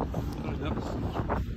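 Steady wind buffeting the microphone outdoors on a cold, snowy day, a continuous low rumble with gusty swells and no spoken words heard.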